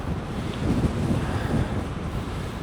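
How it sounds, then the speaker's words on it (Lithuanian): Strong wind buffets the microphone outdoors as a storm approaches, a steady, loud roar and rumble with gusty swells that fill the whole clip; no one speaks. "O dar vėjas pradėjo pūsti"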